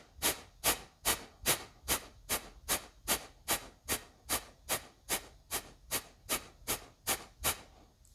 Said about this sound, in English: you keep your mouth closed and it's just through your nose. You're going to exhale fast and you'll just naturally inhale